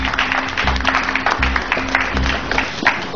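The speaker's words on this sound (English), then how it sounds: "let's give her a round of applause." An audience at a Hammer Museum discussion breaks into applause, a dense patter of many hands clapping together, loud and close, with some voices mixed in underneath.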